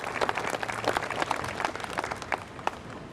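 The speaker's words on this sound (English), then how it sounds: "Let's give them a round of applause for all they do." A round of applause rises from attendees at a child advocacy program event honouring police departments, with scattered individual claps standing out from a moderate, steady patter.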